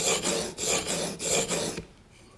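Knife bevel being ground on an Edge Pro Apex sharpener, a close, steady rasping of the stone along the flat of the blade in front of the handle, in repeated back-and-forth strokes with brief gaps, then fading away.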